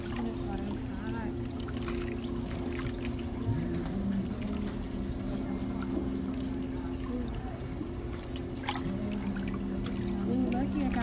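Water running and pouring steadily into a pedicure foot bath at a nail salon, a continuous trickling flow with a low motor hum underneath, close by.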